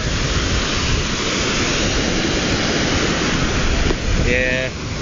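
Ocean surf rolls onto the shore at Venice Beach as a loud, continuous roar of breaking water mixed with heavy wind buffeting the microphone, and a voice talks briefly near the end.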